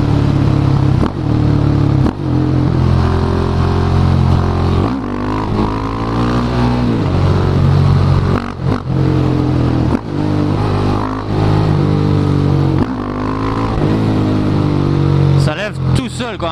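A KTM Duke 690 café racer, restricted for the A2 licence, pulls hard and loud close by, its engine note climbing again and again through repeated rising revs and gear changes.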